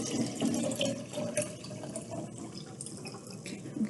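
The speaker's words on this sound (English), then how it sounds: "the first step is you're going to pour the water into your jar." Water poured into a jar for a children's weather activity, a continuous trickling, splashing pour with drippy liquid texture, fairly close and steady before easing off.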